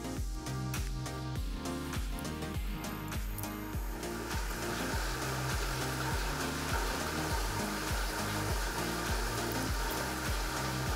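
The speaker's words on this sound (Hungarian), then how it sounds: "Ha felkészültek egy gombnyomással, már indítom is a sorsológépet." Lottery drawing machine for a Scandinavian lotto draw whirs steadily as it mixes the balls, with rapid clattering knocks early on settling into a continuous rumbling hum and rattle.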